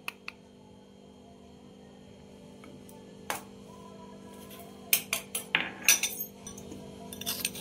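A spoon clinks against a bowl while mixing red chilli powder, cumin and turmeric for raw mango chutney: a few sparse taps, then a quick run of sharper clinks near the end, with no talk.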